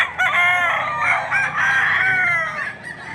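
A rooster crows loudly and close by at a chicken market in Padre Garcia, Batangas, a drawn-out cock-a-doodle-doo with a few short breaks, other fowl clucking faintly around it.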